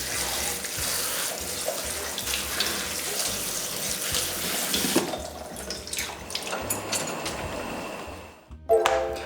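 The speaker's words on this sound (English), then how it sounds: "We're gonna drain and rinse it in cold water to remove excess flour and starch." Fresh noodles rinsed under a cold running tap in a sink, a steady close splashing stream that shifts and thins, then a brief clatter near the end.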